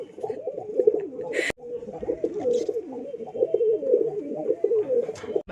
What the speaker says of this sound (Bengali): ওই দেখো পায়রা, পায়রা,